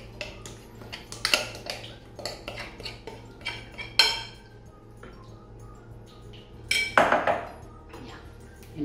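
Metal cutlery and an oven pot clink and scrape while an oil mixture is added for vegetable handvo, sharp isolated knocks and a couple of louder clattering bursts in a quiet kitchen.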